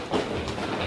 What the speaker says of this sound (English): if you have 2 feet, stomp on the ground for me real quick